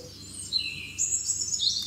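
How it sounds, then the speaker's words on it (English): Birds chirp and tweet outdoors in a steady high-pitched chorus over a soft background hiss, with no voices. "the birds chirping and the leaves rustling in the wind"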